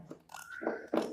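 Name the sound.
cutting fabric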